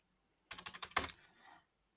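Quick burst of keystrokes on a computer keyboard as a project name is typed into business software, about a dozen close, crisp taps in a fast run, then trailing off, with no talking.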